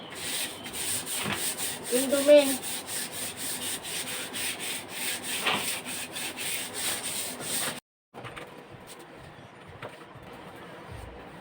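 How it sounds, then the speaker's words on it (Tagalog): Close sandpaper strokes rub rhythmically across a varnished wooden door in repeated passes, then stop briefly; a voice speaks quietly during the sanding. "liha naman natin ulit"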